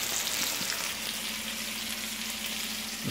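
Chicken breasts sizzle in a hot pan with garlic powder, a steady, close crackling hiss that runs evenly throughout with no talking.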